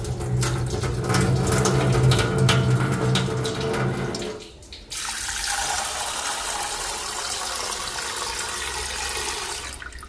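Tap water runs steadily into a bowl of matar dal being rinsed, a loud continuous splashing that briefly cuts out, then resumes as a softer, hissier stream.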